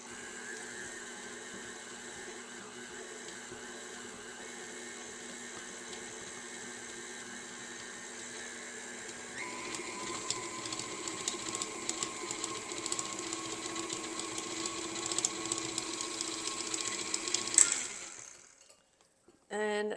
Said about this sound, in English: And we're going to mix all of this together.